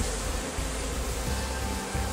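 Honey bees buzz over hive frames used for storing honey, a dense, steady, close swarm hum with no pauses or speech.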